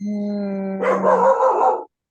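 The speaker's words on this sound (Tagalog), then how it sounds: "Oh my God, tunga po yung aso ko." A pet dog barks and yips in a short, close burst of several sharp barks, heard alone without talk.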